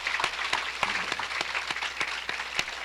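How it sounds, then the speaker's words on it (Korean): A church congregation at a Sunday service claps in welcome, a fairly brisk, even round of applause from many hands, sustained and moderately loud with no talk over it. "환영 박수 드립시다."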